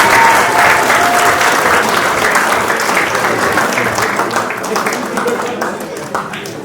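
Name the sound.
audience applause welcoming Coach Taj to the stage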